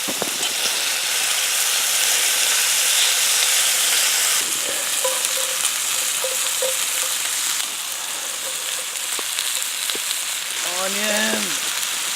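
Food fries in a pan over a campfire at a winter campsite, with a loud, steady sizzle and hiss held throughout and faint clinks and scraping near the end.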